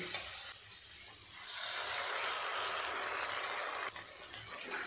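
Mashed taro paste stirred continuously in a frying pan over spiced oil, giving a soft steady sizzle and hiss with faint scraping, close and low in level, with no talking.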